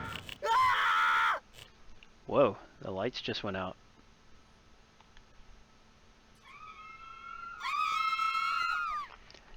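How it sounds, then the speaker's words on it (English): Shrill, sustained screams from the Corpse Party horror video game come in two loud bursts, one at the start and another near the end, with someone speaking briefly between them. "everyone's screaming and you actually hear a scream"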